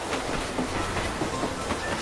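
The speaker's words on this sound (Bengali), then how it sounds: "ট্রেনটা যেমন এসছিল তেমনই চলে গেল বৃষ্টি মাথায় নিয়ে" A train pulls away from a small halt station in steady rain, its rumble and rhythmic clickety-clack of wheels on rails running continuously and fairly close, with a broad hiss of rain layered over it and no voices.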